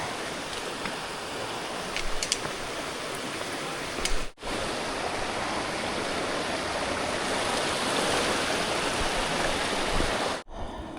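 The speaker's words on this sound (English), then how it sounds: "Looks like we got a nice waterfall here." A waterfall beside a hiking trail on the Appalachian Trail: a loud, steady broadband rush of falling water, heard up close and unbroken apart from two brief cut-outs, with no one speaking.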